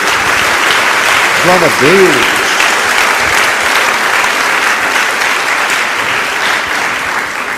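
A church congregation applauds Jesus during a service, a loud, dense, sustained clapping with a voice briefly calling out over it.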